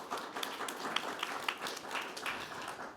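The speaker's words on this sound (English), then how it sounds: "I want you to just give a round of applause for yourselves." A conference audience gives a short round of applause, light and somewhat sparse clapping with individual claps audible, moderately distant and fairly even for a few seconds.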